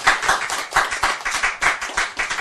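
Lecture-hall audience at a Buddhist Diamond Sutra talk clapping in unison, about a dozen quick, evenly spaced claps, close and clear with no talking.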